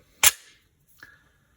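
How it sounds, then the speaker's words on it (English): A semi-automatic handgun's slide is racked, giving one sharp, loud metallic clack and a quieter click about a second later, close up and without talk. "until you load a magazine and you put it in and you rack the slide"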